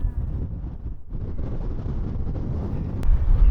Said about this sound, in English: Just so windy up here